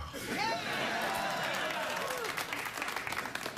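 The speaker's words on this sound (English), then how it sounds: "that genuine, sincere applause of a television studio audience" Television studio audience applauding during a late-night talk show, a steady dense wash of clapping with some cheering voices mixed in, fairly close and sustained throughout.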